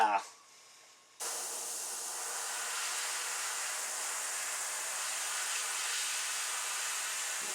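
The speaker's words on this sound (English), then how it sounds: "Well, we got a little bit of spray there, but that's alright." Spray paint hisses steadily onto a deer or elk antler repair, a close, continuous burst that runs unbroken for several seconds after a short quiet start.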